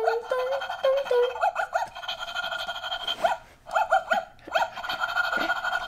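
Robot dog toy giving a string of electronic barks and chirpy tones, loud and close, in short bursts with brief pauses between them.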